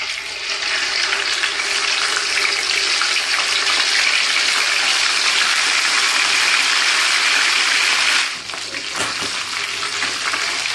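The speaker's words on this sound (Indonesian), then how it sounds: "Ini air mendidih, kita kasih garam sedikit." Water boils hard in a pot on the stove for cooking pakcoy leaves, a loud, dense, continuous bubbling hiss heard close up that dips briefly near the end, with no talking.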